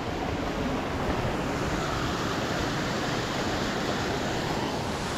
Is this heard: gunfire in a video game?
no